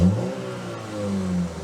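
A 2023 BMW 220i Gran Coupe M Sport in Sport mode gives a single short rev. The engine note rises and holds a smooth, steady hum, loud and close, with no talking.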